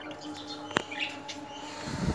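Lutino Hogoromo budgerigars in an indoor breeding setup give soft, scattered chirps, with one sharper short call standing out over a low room hum and no talk.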